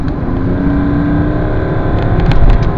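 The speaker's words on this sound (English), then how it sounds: "I'm doing 40 miles an hour, and one would go to accelerate," A 2003 BMW 530d diesel accelerating from 40 mph, a loud, steady engine drone inside the car that swells slightly as it pulls, with no talking.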